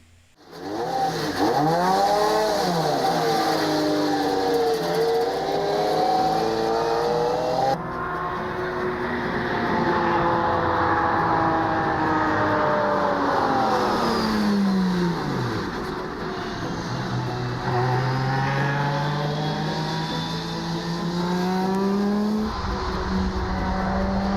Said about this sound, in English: the F1 version's 550 horsepower, which sounded something like this